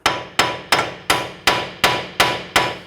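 Hammer tapping a pinch bolt through the front lower ball joint of a 2011-2015 Kia Sorento, eight sharp metallic strikes at an even steady rhythm, close and loud with short ringing decays, no talk.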